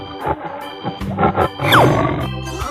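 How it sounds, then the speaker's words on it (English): A tiger roars in a 3D animal slide video game, a short growling call mixed with game music and effects, including a falling whistle-like sweep, fairly loud with no talk. "Tiger."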